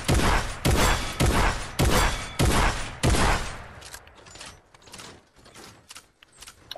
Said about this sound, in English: so that's the new combat shotgun